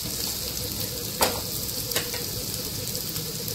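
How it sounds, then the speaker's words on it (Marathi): Turmeric sizzles in hot oil for a bitter gourd sweet-sour dish, with a steady broadband frying hiss and a couple of sharp stirring clicks, close and alone. "हळद टाकून झाल्यावरती लागलीच आपल्याला हलवून पण घ्यायचं थोडंसं"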